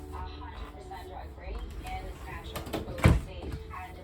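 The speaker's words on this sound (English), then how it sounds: "the drawers have that soft closing thing" A soft-closing drawer in an RV kitchen slides shut with a muted thump near the end, amid light handling noise and a voice speaking.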